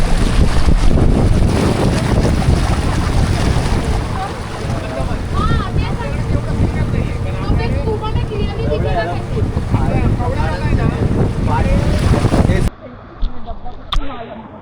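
A boat cruising on the sea off the Konkan coast near Malvan in heavy monsoon rain, with steady loud wind and engine rumble, water rushing against the hull and a voice talking over it, cutting to quiet near the end.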